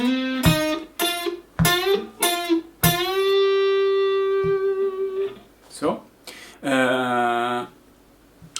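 Electric guitar plays a lick with whole-step string bends on the third string, sliding notes and sustained bent tones alternating with someone talking close by.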